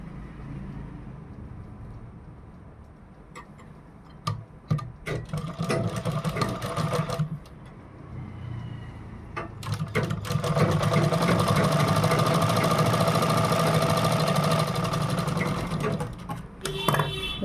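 A sewing machine stitching a blouse runs in bursts, with short starts and stops early on and then a long, steady whir near the end, with some quiet talk in between.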